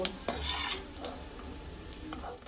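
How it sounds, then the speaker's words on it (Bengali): Fish roe frying in oil in a pan gives a close, steady sizzle, with a few sharp clinks and scrapes as a spatula flips the pieces over during a short burst of cooking. "তো এবারে মাছের ডিমগুলোকে আমি উল্টিয়ে নেব"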